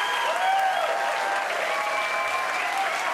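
Studio audience on a morning show applauding, a steady wash of clapping from a crowd with a faint voice or tone riding over it.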